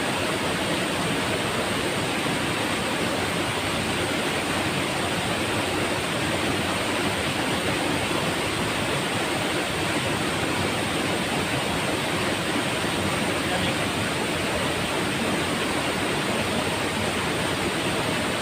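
A waterfall where people are bathing pours with a dense, steady broadband rush, constant and loud throughout, with no voices standing out.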